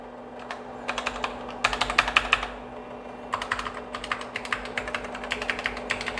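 Bursts of clacking keystrokes on a Compaq Plus Portable keyboard with some sticking keys, uneven clusters of rapid taps separated by short pauses, close and clear with no talking.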